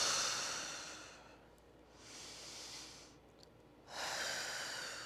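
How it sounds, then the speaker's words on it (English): Slow, deep breaths during a relaxed mobility routine, each inhale and exhale a soft airy rush swelling and fading in a steady rhythm, close and quiet with no talking. "Let's take a couple of breaths."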